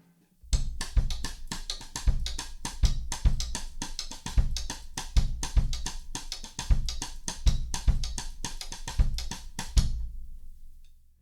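Drum kit plays a songo rhythm with a bell pattern on top, steady and syncopated, with punchy low drum hits under a constant, brighter bell pulse, fairly close and alone until it stops.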